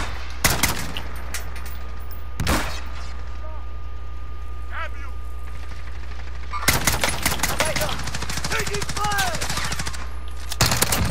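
Gunfire in a Rebirth map shooter game: several bursts of rapid automatic shots, one around two and a half seconds and a dense stretch near the end, over a steady low game hum with occasional voices.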